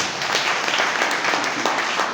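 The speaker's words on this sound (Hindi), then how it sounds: "एक बार जोरदार ताली हो जाए" An audience claps together in a dense, steady burst of applause that holds throughout at close, loud level, with no voices standing out.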